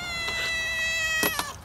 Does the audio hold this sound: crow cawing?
no